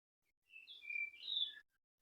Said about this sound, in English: I don't know if you can hear behind me the birds.